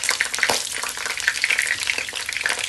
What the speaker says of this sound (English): So I'm adding my garlic and my hot pepper